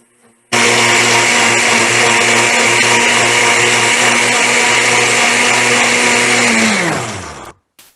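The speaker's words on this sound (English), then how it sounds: "So what I'm going to do is put a few pieces of cabbage into a blender." A blender blending red cabbage pieces with water whirs loudly and continuously for several seconds, then its motor winds down and stops, with no talking.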